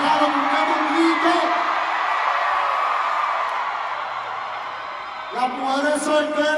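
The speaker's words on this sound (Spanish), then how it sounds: "Dame un grito, hay que estar orgulloso de ser mexicano" A large concert crowd in Houston, Texas in 2019 shouts and cheers in a loud, sustained roar that fades slightly, then surges again near the end as fresh whoops rise.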